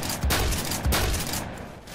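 Gunfire in the Roblox shooter Phantom Forces, aimed at a distant enemy: a few sharp, fairly quiet bursts of shots with short gaps between them, heard alone.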